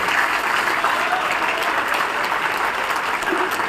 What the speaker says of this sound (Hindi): एक बार राजीव जी के लिए जोरदार ताली बजाए।